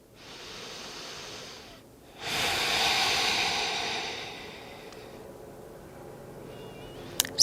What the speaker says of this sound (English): Nice, slow, deep breath.